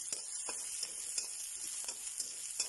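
Small onions sautéing in a pan for mushroom curry give a soft, steady sizzle, quiet and continuous, with faint scattered clicks from stirring.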